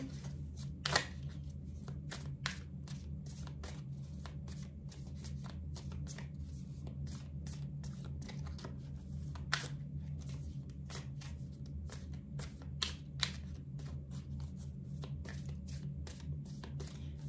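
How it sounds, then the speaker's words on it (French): Tarot cards are shuffled and drawn by hand, giving a steady run of soft papery riffles and light slaps with a few sharper flicks, close up and quiet, with no talking over a low background hum. "je vais tirer 5 cartes, plus une 6e sur le côté, pour des précisions"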